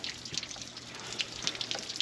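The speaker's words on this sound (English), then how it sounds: "I just pulled the cover off the water pump. I'm letting it drain there." Coolant water drains from the opened water pump of a 12V71 Detroit Diesel engine in a 1973 Peterbilt 352 cabover, a steady close trickle and splash with scattered bright drips throughout.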